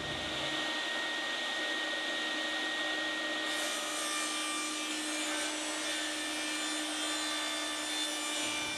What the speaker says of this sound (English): I can turn the pallet board around, adjust my fence and rip the other side and square everything up